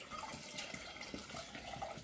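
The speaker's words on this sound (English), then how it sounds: "in this bowl over here, I'm going to put about 650 mils of water" About 650 ml of water poured from a 500 ml jug into a bowl while making pizza, a faint, continuous splashing trickle lasting a couple of seconds, with no talk.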